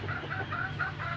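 A flock of chickens and roosters clucking at evening feeding, a run of short rising cackles and calls repeating through the moment, close by and fairly clear over a low steady background.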